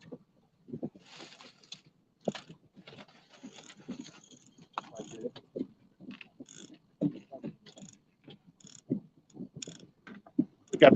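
A fishing reel clicker ticks irregularly as line pays out behind a planer board at Hoover Reservoir, with faint scattered clicks in an otherwise quiet setting.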